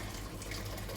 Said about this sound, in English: Add some boiling water.